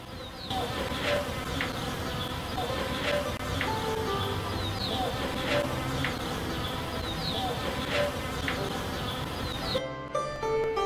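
A dense, continuous hum of many bees buzzing around active hives, with individual insects zipping past close by at intervals.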